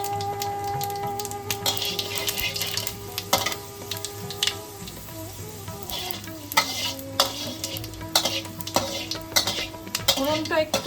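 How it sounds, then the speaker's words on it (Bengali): Panch phoron, a bay leaf and dried red chillies sizzle and crackle in hot oil while a utensil stirs and scrapes the pan, with sharp metallic clinks popping out over the steady frying hiss. "ফোড়নটা একটু কালচে করে ভাজতে হবে"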